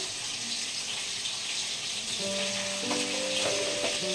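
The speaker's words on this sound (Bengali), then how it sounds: "আলুটা ভেজে নিই।" Potatoes frying in an oiled pan with turmeric and salt, making a steady, fairly loud sizzle that runs the whole time, with faint clinks of utensils toward the end and nobody speaking.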